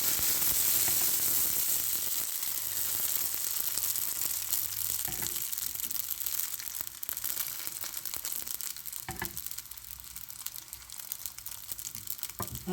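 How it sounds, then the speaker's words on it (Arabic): Hot oil poured over a spring roll pastry sheet, setting off a steady close sizzle with crackling and bubbling that eases off over the clip, no voices. "غادي نبقى نعس الزيت سخونه ونخويها عليها"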